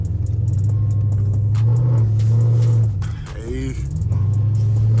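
Dodge Charger SRT engine droning and revving loudly while the car slides without traction in snow during a snowstorm, a steady low rumble with a brief dip, and a voice heard briefly over it.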